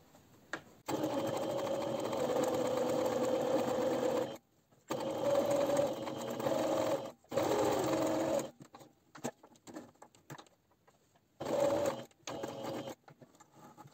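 A sewing machine stitching a flat zipper pouch runs in several loud steady bursts separated by pauses, the motor whirring evenly with short gaps and a final brief run.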